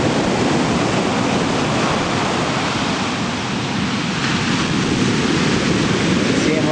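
Ocean waves at Centerville Beach crashing on the shore, a loud, continuous broadband roar of surf that swells slightly and stays steady throughout, with no clear voices.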